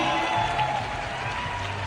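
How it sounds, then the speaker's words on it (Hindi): Loud, continuous clapping from a large crowd at the launch event for the Chhattisgarhi film Teeja Ke Lugra 2, a thick wash of hands that holds steady throughout. "प्रोड्यूसर साहब के लिए भी हो जोरदार तालियां"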